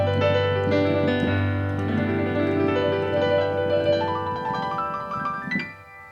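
Piano playing a pentatonic country slip-note run, a quick arpeggiated figure climbing upward over sustained low chord tones, clear and close with notes ringing into one another before a final high flourish.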